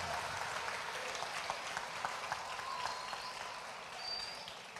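A church congregation claps in sustained, even applause, a dense crackle of many hands at moderate loudness that holds steady and eases off slightly at the end; no talking.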